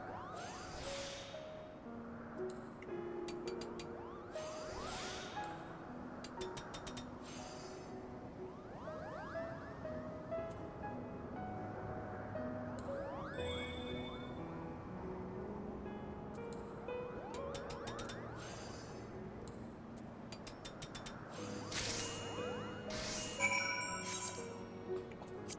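Crafting an exploding Kupo nut in Final Fantasy XIV brings layered game effects: bright chimes, rising tonal sweeps and recurring whooshing bursts over a soft musical bed, with a louder flourish near the end and no speech.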